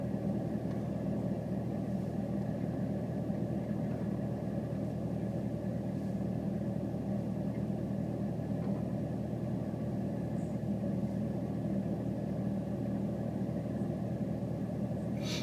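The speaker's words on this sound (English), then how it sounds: "Because my car's so loud, so I gotta yell." A car engine drones loudly and steadily from inside the cabin, a constant low rumble with no change in pace and no voices.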